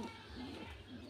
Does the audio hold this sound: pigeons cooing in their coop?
yes